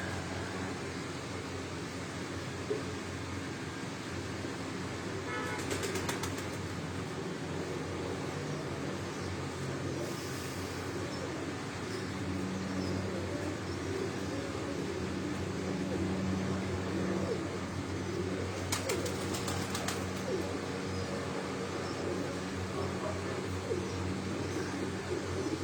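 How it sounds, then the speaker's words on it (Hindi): Racing pigeons on a rooftop coop near Chak Beli Road, Rawat, coo softly amid steady outdoor hum, with a couple of brief bursts of wing flapping. "ये उन्होंने प्रवासी कबूतरां तुहानूं शो करा रहे हैं जी।"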